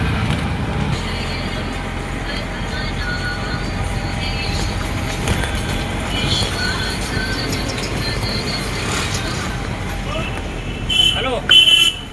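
Auto rickshaw riding through busy street traffic, with a steady engine and road rumble throughout, a horn toot near the end, and background voices.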